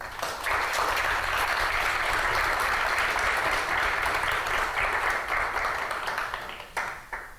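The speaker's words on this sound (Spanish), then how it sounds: "vamos a dar un aplauso, por favor" Sustained applause from an audience at an academic talk on Mexico's judicial reform, dense and even clapping holding steady before tapering off at the end.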